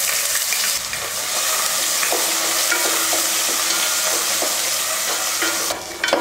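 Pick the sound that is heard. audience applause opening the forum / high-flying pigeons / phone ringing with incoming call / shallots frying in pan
shallots frying in pan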